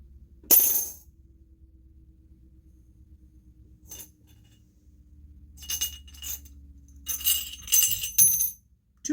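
Coins drop and clink against glass beneath a table: one sharp jingle, a faint tap, then a cluster of rattling clinks near the end, close and clear over low background hum.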